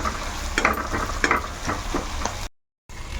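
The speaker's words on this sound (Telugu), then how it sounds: "ఇక్కడ మనకి తాలింపు వేగిపోయింది" Tempering spices sizzle and crackle in hot oil as a spoon scrapes and stirs the pan a few times, followed by a brief silence.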